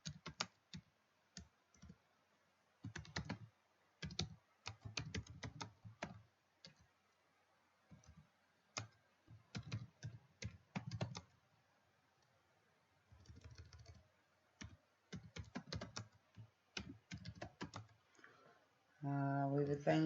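Fingers type on a computer keyboard while writing a product title and description for an online shop, with quick clustered keystrokes and clicks in bursts separated by short pauses, close and fairly quiet.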